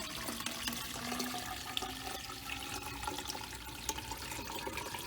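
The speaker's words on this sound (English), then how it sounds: "Let's pour that to this big old graduated cylinder." Water pours into a large graduated cylinder during a molecular weight of air experiment, a continuous soft splashing trickle that runs steadily throughout.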